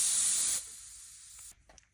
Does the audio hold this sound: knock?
no